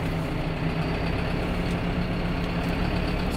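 John Deere 6320 tractor engine pulling in fourth gear, producing a constant, near, low rumbling drone that holds steady throughout with no voices.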